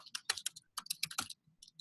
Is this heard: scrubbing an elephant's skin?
no